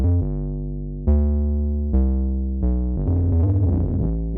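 A deep 808-style sub bass from the Serum synth plays a basic 8-bar pattern, loud, with long sustained notes, a few pitch changes and a busier, grittier phrase near the end.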